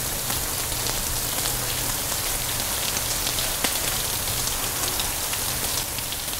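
Steady rain falling at night, a dense, even patter of drops striking surfaces nearby, continuous and fairly loud with no voices.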